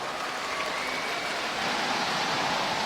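An audience applauds at a live Cantonese stand-up comedy show. Dense, loud, even clapping fills the whole stretch without a break.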